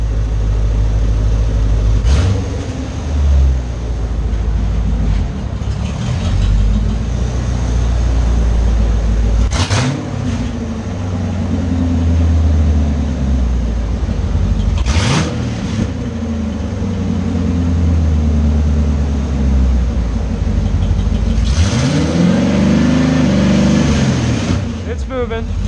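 A 1985 C4 Corvette running open headers, revving hard in several sharp bursts over a loud, rumbling idle, close by, while people talk throughout.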